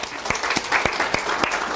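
Audience applause at a Bible school seminar session, a short burst of scattered hand claps with a few sharp louder claps standing out over a steady patter, fairly near and alone without talk.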